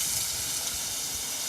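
Beef and onions for bulgogi sizzle in a very hot pan, a brief, continuous hiss heard up close with no voices.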